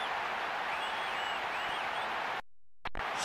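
A dense, steady stadium crowd roar from the eFootball PES 2024 video game fills the air continuously, then cuts out abruptly near the end before briefly returning.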